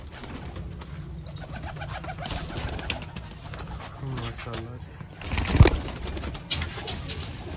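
Pigeons coo softly in a Sialkot breeder's loft, low repeated calls under close conversation, with a brief rustle or flap near the middle.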